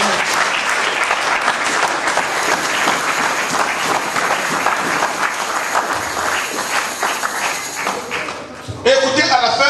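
A church congregation at a spiritual-warfare prayer service breaks into loud, dense, sustained applause and cheering that fills the room for several seconds. It cuts off near the end, when a single voice takes over.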